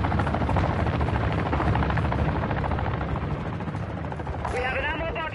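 A helicopter's loud, steady rotor roar fills the Warzone battlefield, mixed with bursts of gunfire, and a voice rises briefly near the end.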